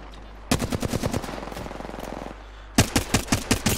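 Automatic gunfire in Apex Legends, two loud rapid bursts of evenly spaced shots, the first longer and tailing into quicker faint fire, the second a short heavy volley.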